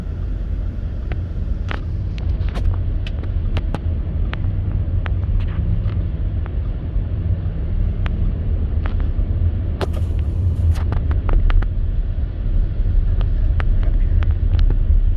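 A car drives along a wet, slushy highway near I-5 during a 2021 snowstorm, giving a loud, steady roar of tyres on wet road with wind buffeting the microphone throughout and a few faint clicks.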